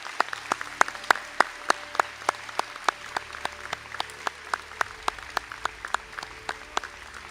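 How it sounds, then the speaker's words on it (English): Sparse, steady applause at a Sligo and St Angela's conferring ceremony for Master of Science graduates, with individual claps ringing out in a regular rhythm over a quiet hall and no talking. "to please stand for a round of applause"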